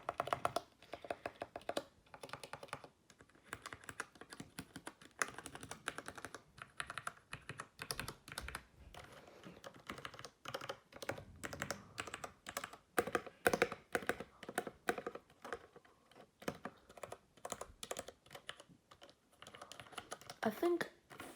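Typing on a Ducky MIYA Pro 65% mechanical keyboard with RGB lighting: a steady run of close, crisp keystroke clacks and occasional spacebar thumps, continuous and fairly quiet for over twenty seconds, with no talking.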